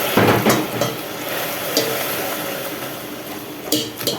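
Water poured into hot caramel for a condensed-milk pudding sizzles and hisses strongly while being stirred, close by, with occasional clinks of a utensil against the pan.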